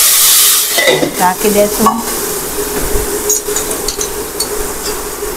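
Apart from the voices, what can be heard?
spices, curry leaves and vegetables added to hot oil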